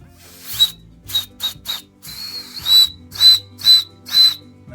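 Air escapes from a leak around the valve stem of a dump cart tire inner tube, a thin, high whistle in about eight separate hissing bursts, close and fairly loud, each lasting under half a second.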